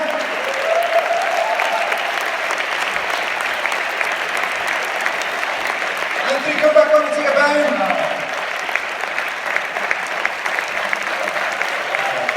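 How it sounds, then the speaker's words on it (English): Audience applause fills a political comedy show in Singapore, steady and loud throughout, swelling briefly midway, while an announcer talks over it. "Give them a round of applause, ladies and gentlemen."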